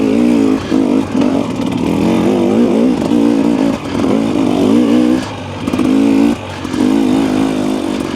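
Husqvarna TE300 two-stroke dirt bike engine working hard under load while riding, a loud, continuous throaty drone with repeated rises and dips in revs as the throttle is rolled on and off.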